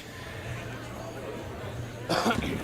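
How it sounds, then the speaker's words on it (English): A single harsh cough close to the microphone near the end, breaking through a quiet murmur of background chatter at a school homecoming wrestling event. "I've got me a bit of a cough."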